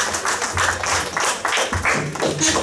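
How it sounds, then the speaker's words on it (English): Audience at a school debate claps for both participants, a moderately loud, fairly sparse round of clapping with distinct slaps that continues throughout. "Claps for both of the participants."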